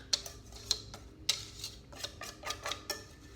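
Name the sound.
whisk scraping casserole mixture out of bowl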